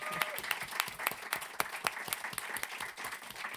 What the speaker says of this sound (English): thanking goes maybe with an applause